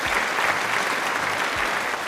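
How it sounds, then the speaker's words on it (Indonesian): A brief round of dense, even applause comes from an audience cheering for a guest named Aderis. "boleh dong sekali lagi tepuk tangan buat Aderis."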